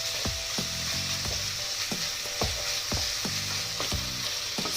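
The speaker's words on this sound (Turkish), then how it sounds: "şimdi kıymalarımızı kavuruyoruz" Minced meat sizzles and fries steadily in a pan for a Turkish tirit dish, with periodic scraping and stirring strokes over the constant crackle and no voices.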